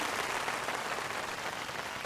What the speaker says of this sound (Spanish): Demos un gran aplauso a Emohim por ese logro